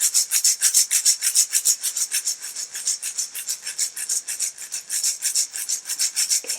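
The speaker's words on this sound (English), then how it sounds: "I need to use my rattle here." A handheld rattle shakes in a quick, steady rhythm, producing a bright, close, continuous shuffling rasp that pulses several times a second with no pauses and no talking.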